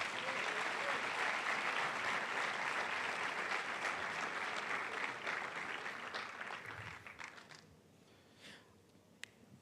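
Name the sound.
congregation applause in church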